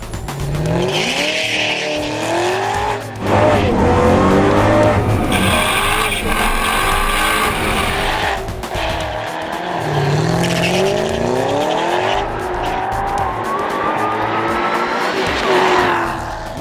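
Ford Mustang race car with a live rear axle and over 1,700 kg of curb weight roars hard down a drag strip in torrential rain, its loud engine sustained throughout with tire squeal and wheelspin, no talking.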